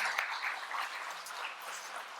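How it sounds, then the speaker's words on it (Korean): A church congregation applauds in thanksgiving, a steady wash of many hands clapping, moderately distant and fairly soft, with no voices on top. "우리 풍성한 추수의 결실을 주시는 우리 하나님께 감사와 영광의 박수 올려드리도록 하겠습니다."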